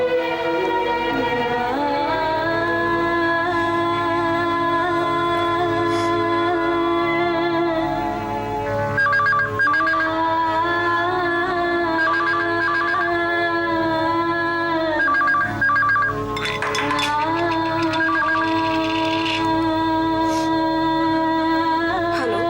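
A telephone rings with a sustained, loud electronic tone over a dense musical drama score, carrying on unbroken through the scene.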